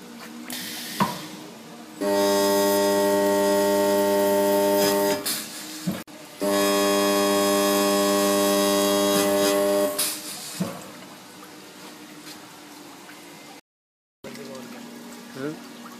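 A seam welder working a sheet of material gives two loud, steady harmonic buzzes of about three seconds each, separated by a brief pause, with soft handling clicks before and after.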